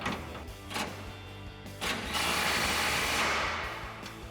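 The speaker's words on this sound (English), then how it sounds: "Now we'll tighten down our bottom bolt with our 21 mil socket and our 24 mil socket for our nut." A ratchet with 21 mm and 24 mm sockets tightens a shackle bolt on a 2015-2020 Ford F-150 rear lowering shackle install, giving a few short clicking runs followed by a longer steady ratcheting stretch.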